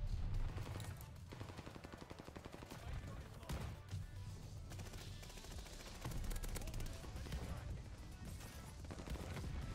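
MG42 light machine gun fired in the video game Warzone Pacific, heard as sustained loud automatic fire with dense rapid shots running through most of the stretch.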